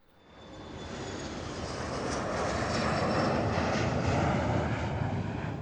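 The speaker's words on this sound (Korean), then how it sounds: "이내 비행기가 움직이기 시작했다" An airplane's engines swell from quiet to a steady loud roar as the aircraft begins to move and taxi, a broad continuous rumble close by with no voices.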